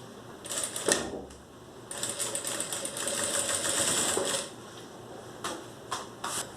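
A sewing machine stitches a zippered notebook case in fast mechanical runs, separated by short pauses and clicks of handling close to the microphone, with no talking.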